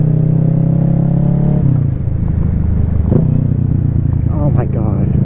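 A Kawasaki Ninja 650 is ridden, its engine droning loud and close. The pitch drops at a gear change early on and then holds a steady rumbling note while the rider shifts smoothly.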